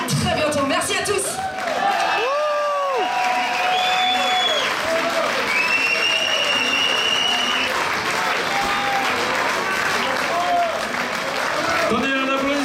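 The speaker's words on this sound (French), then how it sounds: "Donnez un applaudissement pour le salut du groupe." A concert crowd at the Minimum applauds the band with steady clapping, scattered whoops and cheers, and voices calling out over the ovation.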